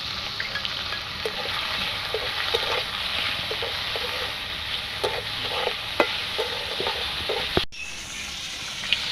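Chicken pieces seasoned with chopped garlic, chilli powder and salt fry in a pan for pasta, giving a steady close sizzle with scattered stirring clicks and scrapes throughout, a brief sharp knock near the end, no talking.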